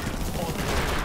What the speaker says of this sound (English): Go ahead, fire a rocket.